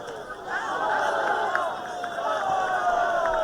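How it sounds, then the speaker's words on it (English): Spectators at a senior-night high school boys varsity soccer match between Plymouth Whitemarsh and Wissahickon grumble and murmur after a hard tackle draws no whistle, a steady mass of overlapping voices and chatter that holds at an even level throughout. "Seems like the crowd is upset about no whistle"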